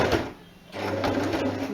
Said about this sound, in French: je vais coudre les deux parties ensemble